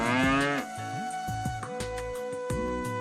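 A native cow moos on a farm, with a long, loud call at the start followed by several shorter lowing calls close by. No one speaks.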